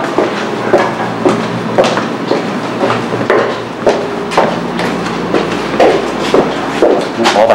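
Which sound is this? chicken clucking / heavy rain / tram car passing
tram car passing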